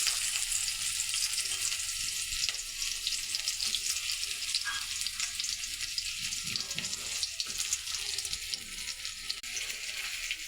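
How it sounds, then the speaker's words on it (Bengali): Onions fry in hot oil for a fish curry, making a dense, continuous sizzle that stays loud and even throughout, with faint watery crackle underneath. "আমি তেল গরম হতে দিয়েছি, তারপরে পেঁয়াজ দিয়ে দিলাম।"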